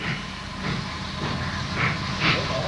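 A steam train runs on the Deccan line in India, giving a steady rumble with hissing steam and faint rhythmic wheel clatter, moderately near and continuous with no talk.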